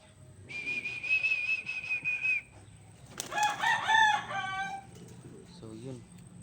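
A rooster crows twice near its coop, the first call a long, steady, whistle-like note and the second a louder, warbling cock-a-doodle-doo, both close and clear over soft background noise.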